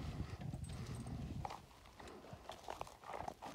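Hooves of a draft mare being led beside a cart clop at a walking pace on a country road, faint and somewhat distant, with a low rumble underneath.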